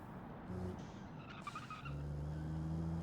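Tires squealing and spinning under full throttle as a light, sporty 60-horsepower car in the Automation driving game pulls out of a turn, a short skid over a steady engine drone.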